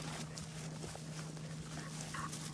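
A dog pants as it runs away during outdoor training, its quick breaths faint and rhythmic over a steady low hum and background noise.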